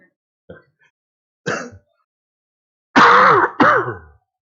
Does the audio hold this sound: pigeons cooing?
no